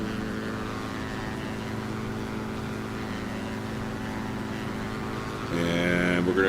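Twin engines of an Aerobask DA62 aircraft in flight in X-Plane 11, a steady droning propeller hum with harmonic tones, growing louder and buzzier near the end.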